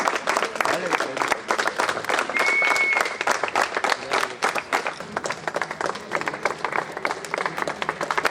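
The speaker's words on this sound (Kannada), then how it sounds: "ಜೋರಾಗಿ ಚಪ್ಪಾಳೆ ಬರಲಿ." Loud, sustained applause from a crowd at a college short pitch cricket tournament valedictory function, many hands clapping in a thick continuous roar that barely dips across the stretch.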